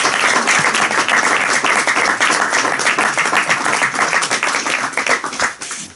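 A crowd at a bookshop book presentation claps in loud, dense applause that holds steady for several seconds, then thins out toward the end, with no speech over it.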